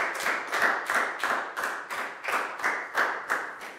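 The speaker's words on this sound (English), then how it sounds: "Let's have a big round of applause for Pak Bung, guys." Rhythmic unison clapping from a Year 4 class, about nine sharp claps at a steady beat, close and loud with no talk.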